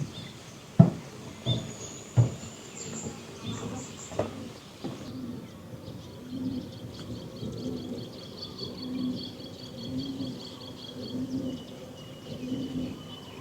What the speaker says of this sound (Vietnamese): Nghe tiếng chim kêu rất là nhiều.